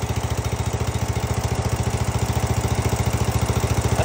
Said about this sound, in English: You hear the exhaust going, but you don't hear the tick, tick, tick, tick, the high pitch tick